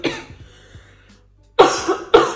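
A person coughs up close, loud and raspy. A quieter cough sets off a brief lull, then two forceful hacking bursts follow near the end.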